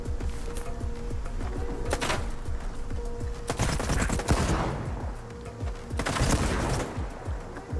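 Repeated gunfire in the video game STALKER 2: Heart of Chornobyl, sharp bursts and rapid volleys cracking over a steady in-game backdrop, loud and close.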